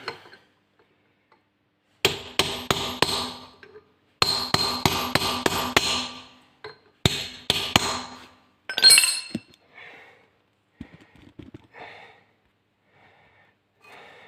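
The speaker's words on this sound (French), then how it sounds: "un petit coup de marteau burin dessus" A hammer drives a chisel against a nut to lock it on a Peugeot 205, several rapid runs of sharp metallic strikes close by, separated by short pauses, then fading into quiet handling noises.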